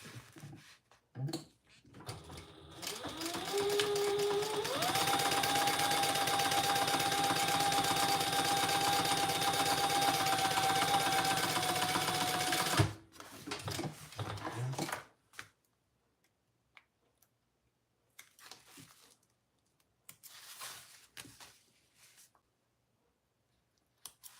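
A sewing machine top stitching a triple zipper runs in one steady whirring burst of about ten seconds, then stops, followed by faint handling clicks and rustles nearby.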